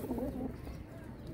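Young pigeons, Sialkoti and Saharanpuri breeds, cooing at close range in a short low warble that fades after the first half-second.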